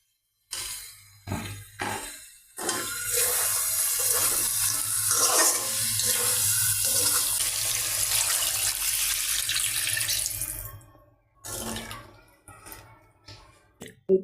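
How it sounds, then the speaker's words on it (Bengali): Small fish being sautéed with spices and vegetables in a pan, a steady broadband sizzle and hiss running for several seconds between brief pauses, close and fairly loud with no talk over it. "এখন আমি মাছগুলো দিয়ে সামান্য একটু কষিয়ে নেব।"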